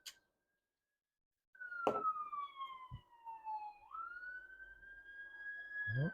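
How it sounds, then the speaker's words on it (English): A toy train set's siren wails in a long falling-then-rising sweep, moderately distant, with a few sharp clicks and knocks nearby. "if you can hear the siren, someone's in trouble or hurt"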